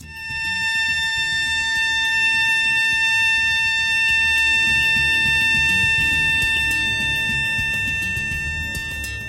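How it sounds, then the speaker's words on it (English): An oil rig's hydrocarbon gas alarm sounds a steady, piercing electronic tone continuously over a low rumbling background, loud and unbroken throughout. "the hydrocarbon alarm,"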